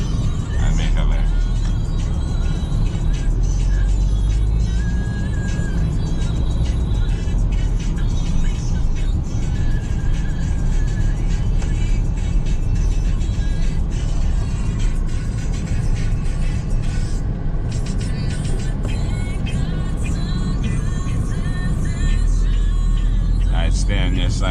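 A car drives on a road test in Lauderhill, Florida, its engine and tyre rumble steady and close from inside the cabin, with talk over it throughout.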